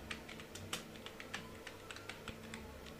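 Faint keystrokes tap on a computer keyboard during voucher entry in Tally accounting software, a quick, uneven run of light clicks heard close and alone.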